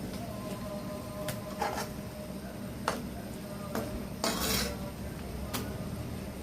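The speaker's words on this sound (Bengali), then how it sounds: "এখন আমি এখানে দিয়ে দেবো ইলিশ মাছ।" Hilsa fish is added to a cooked spice paste in a pan, with a few sharp metal clinks and scrapes of a utensil against the pan over a faint low background.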